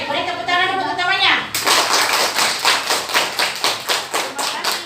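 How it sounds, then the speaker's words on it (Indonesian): Audience applause in an Indonesian classroom or discussion session breaks out after a short stretch of speech, rhythmic claps continuing steadily and fairly close for several seconds. "Beri tepuk tangan untuk utamanya."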